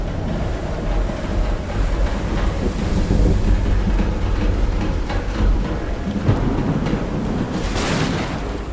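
A thunderstorm rumbles in Call of the Sea VR, with steady heavy rain or surf-like wash and low rolling thunder, a sharper burst of noise near the end.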